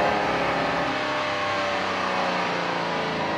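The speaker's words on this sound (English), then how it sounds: "The noise of that V12 engine behind me." A Jaguar XJ13 with a V12 engine mounted behind the cabin, heard while driving: a dense, loud, continuous engine roar that holds steady throughout.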